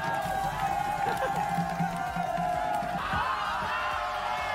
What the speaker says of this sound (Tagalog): Sigawan ng sigawan.